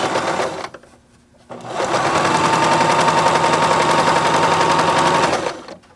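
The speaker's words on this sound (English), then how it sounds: "I'm basically going to stitch, try to stitch near where I just stitched" A Bernette b33 sewing machine stitches piping onto a pillow front. A brief whir starts, pauses for about a second, then a steady, fast, close mechanical hum and needle clatter runs for several seconds before stopping.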